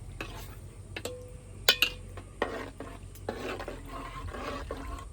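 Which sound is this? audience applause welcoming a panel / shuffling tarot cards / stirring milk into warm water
stirring milk into warm water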